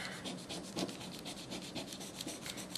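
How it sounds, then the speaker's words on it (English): A fingernail rubs repeatedly over paper laid on a stamp-carving block to transfer an image, making quick scratchy strokes in an even back-and-forth rhythm, close and alone. "So I'm just going to use my fingernail, and see, it transfers very easily."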